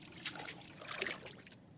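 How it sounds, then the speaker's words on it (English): Wading footsteps through dirty water in The Sinking City, faint soft splashes and trickling sloshes repeating over about two seconds, with no talking. "I'm stepping on caca water"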